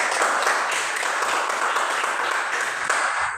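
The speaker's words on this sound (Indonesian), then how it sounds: "berikan aplaus dulu untuk kelompok" Applause for a student group in a classroom: a short, steady burst of many hands clapping together at moderate loudness that fades slightly at the end.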